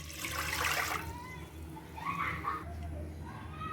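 Water pouring into a pot for making rice flour puttu, a steady splashing rush that swells twice over the short span, with faint household noise behind it.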